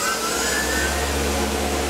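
A Tormach CNC mill cuts with a Maritool cutter while coolant flows, a loud, steady whirring drone with a thin high whine and no pauses.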